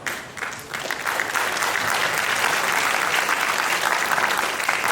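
Conference audience applauding after a guest introduction at an international academic symposium, dense sustained clapping that swells within the first second and holds steady.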